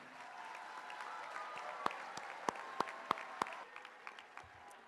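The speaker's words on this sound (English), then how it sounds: "how about one more round of applause for all of our amazing students tonight?" Audience applause fills an auditorium at a student academic growth recognition ceremony, a steady wash of clapping lasting several seconds with a few sharper individual claps standing out before it tapers off.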